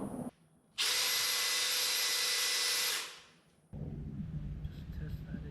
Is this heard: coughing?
no